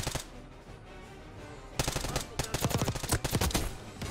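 Rapid bursts of MP5 submachine gun fire in the shooter game Black Ops 6, loud and close, starting after a quieter stretch and continuing in dense rhythmic volleys.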